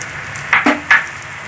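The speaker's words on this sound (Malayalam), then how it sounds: "അപ്പോൾ നമ്മുടെ സവാള ഒന്ന് വാടിൻ്റെ മീതിലേക്ക് നമ്മുടെ പച്ചമുളക് ഇട്ട് കൊടുക്കും" Sliced onions and green chillies fry in a pan with oil for a roasted-coconut chicken curry, giving a steady sizzle broken by a few brief louder crackles and stirring sounds.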